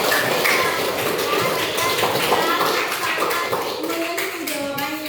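Classroom students clapping together after a good answer, a quick patter of hands close by, with speech and children's voices overlapping the clapping.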